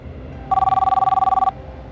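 A telephone rings with one continuous electronic trill lasting about a second, loud and clear over a quiet background, then cuts off abruptly.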